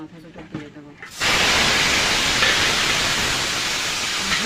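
A fish head drops into hot oil in a kadai and sets off a sudden loud, steady frying hiss that runs on without a break, after a moment of quiet kitchen sounds.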